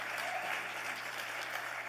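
Steady applause from a crowd, dense clapping heard somewhat distantly and faintly, continuing evenly throughout.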